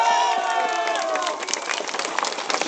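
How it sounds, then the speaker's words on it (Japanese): Crowd cheering and clapping at an open-air election campaign rally for a Tokyo governor candidate outside Shinjuku station's east exit, loud and dense with raised voices at first, then settling into scattered claps and crowd noise. "大きな拍手をお願いします。"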